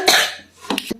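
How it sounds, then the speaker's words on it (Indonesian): A person with a sore throat gives a dry cough with no phlegm: one harsh burst, then a short pause and a quick pair of smaller coughs, close and clear. "batukku itu kayak batuk kering gitu loh"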